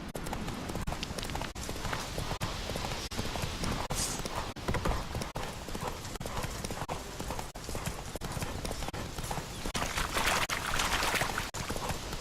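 Hooves of the horse Roach clip-clop steadily at a gallop in the Witcher 3 video game, a continuous rhythmic pounding that runs loud and close throughout, with game ambience layered underneath.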